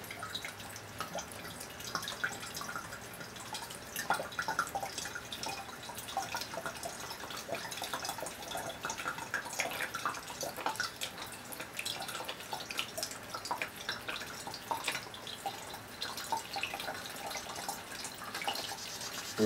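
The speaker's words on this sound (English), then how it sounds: "Tank 4 is starting to fill." Water flowing and dripping steadily as it begins filling a tank in a multi-tank gravity-feed puzzle setup, a continuous trickling wash with scattered drips throughout.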